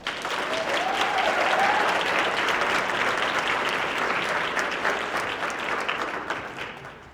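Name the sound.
audience applause at awards ceremony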